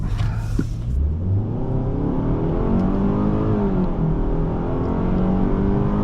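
A 2024 Hyundai Sonata SEL making a U-turn, heard from inside the cabin as a loud, steady engine hum with rising revs and road rumble.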